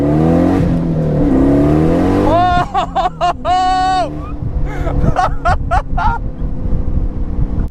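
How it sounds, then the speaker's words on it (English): 2006 Pontiac Solstice with a heavily modified, very fast engine revving hard in a series of sharp, loud blips close by, with wind buffeting and a voice before the revs. "this 2006 Pontiac Slowstice is one of the most ridiculous and one of the fastest cars I've ever driven"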